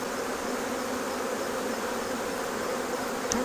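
Honeybees swarm and buzz steadily around an open hive during an inspection, a dense, continuous drone close by with no talking.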